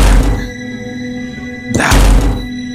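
A heavy door slams hard with a loud, booming thud, then a second big slam follows about a second and a half later, each impact leaving a low rumble.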